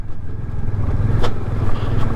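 A motorcycle rumbles along a rough off-road mountain track near Chanshal Pass in Shimla, its low engine drone close and steady, with a sharp clatter of loose parts partway through.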